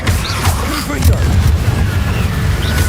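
Confringo blasting spells cast in Hogwarts Legacy burst out as loud, booming fiery blasts in quick succession, with voices speaking over them.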